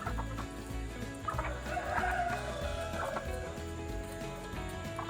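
Homestead chickens clucking and squawking busily as they are fed canning scraps, a dense close chorus of overlapping bird calls with a rooster-like call standing out.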